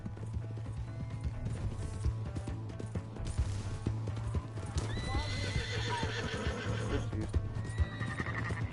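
In Red Dead Redemption 2, hooves clip-clop steadily beneath game music and ambience, then a horse lets out a loud, wavering neigh partway through.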